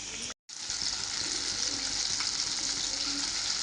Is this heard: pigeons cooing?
no